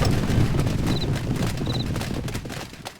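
Horses galloping in the Stronghold Legends strategy game, a dense flurry of hoofbeats with a few faint chirps over the top, fairly loud and fading slightly toward the end.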